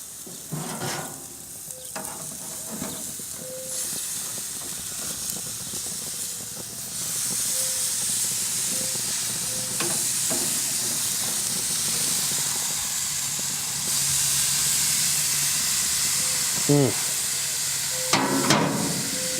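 Steaks fry in a hot pan with a constant loud sizzle and hiss, with occasional scrapes and clinks from flipping them over.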